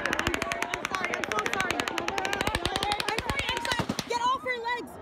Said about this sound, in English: people took cover and the gunfire started again